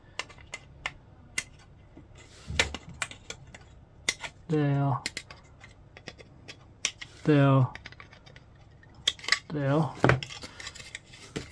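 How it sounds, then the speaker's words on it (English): Hobby cutters snip plastic parts from the sprue of a Tamiya 1/48 F-35A Lightning II model kit, giving a series of sharp close clicks, with someone speaking briefly in between. "So let's snip this off quickly."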